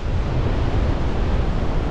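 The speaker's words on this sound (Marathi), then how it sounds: "लाटा पण बघा किती सुंदर असं दिसतात" Waves break on a quiet sandy beach with green hills on three sides, making a continuous loud roar of surf mixed with gusty wind noise on the microphone.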